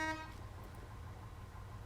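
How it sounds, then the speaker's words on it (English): A truck horn in the MudRunner off-road video game gives a single brief toot at the start, then cuts off into a low engine rumble. "If you hit the horn enough times, or if you hit the horn again and again fast enough, there's no sound."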